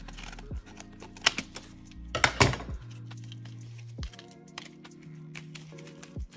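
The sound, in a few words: opening the packaging of a PS Vita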